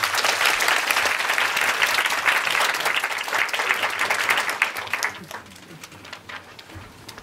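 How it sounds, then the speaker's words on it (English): An audience at a social justice forum applauds to welcome a guest named Dean, a full burst of clapping that stays strong for several seconds and then thins out into scattered claps. "So a big round of applause for Dean"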